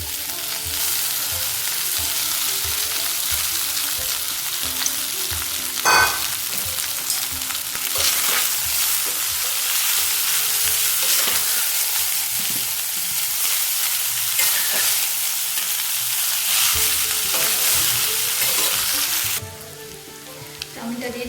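Chow mein noodles stir-fried in a spiced pan, giving a steady, loud sizzle with scraping and stirring clatter throughout, one sharper clank near the middle, and the frying dropping briefly quieter near the end.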